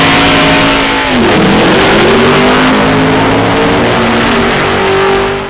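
An LS1-powered Holden Commodore drag car revs loudly and close, the V8 note dipping sharply at about one second and then climbing and holding in a harsh, roaring drone, alone.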